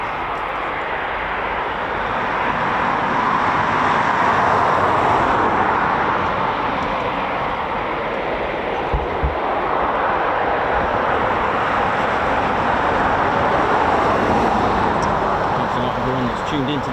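A Royal Air Force Typhoon FGR4 jet roars continuously at a training and air policing station, a loud sustained engine rumble that swells and fades slightly over the whole stretch, with a voice talking faintly underneath.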